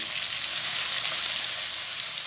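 Onions sizzle steadily in hot oil, a dense, continuous crackling hiss close by with no pauses.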